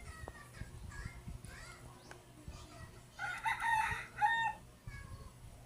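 Chickens kept in a coop, with a rooster crowing clearly for a couple of seconds midway, short clucks around it and a faint hum and children's voices in the background.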